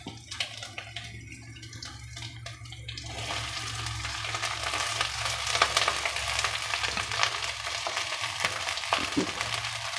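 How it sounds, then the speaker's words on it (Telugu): Rice goes into a pan with ginger-garlic paste over a low flame for gobi fried rice. A soft, steady frying hiss builds after a quieter start and continues alone to the end. "ఇప్పుడు అన్నిటికంటే ముందు స్టవ్ సిమ్లో పెట్టుకొని రైస్ వేసుకోవాలి."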